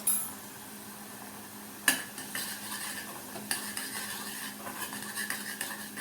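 Tomato-garlic puree seasoned with salt, Kashmiri chili powder and garam masala is stirred as it fries in a pan, with a soft sizzle under repeated close scrapes and clinks of a spoon against metal, and no talking.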